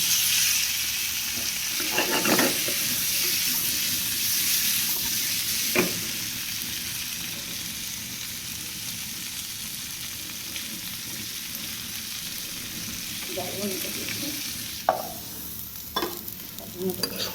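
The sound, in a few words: potatoes frying in a pan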